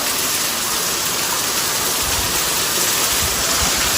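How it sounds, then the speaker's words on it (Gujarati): Steady, heavy predawn rain pours down over a village in a dense, unbroken roar, loud and close, with no voices. "આમ એક જ ધારો વરસે છે"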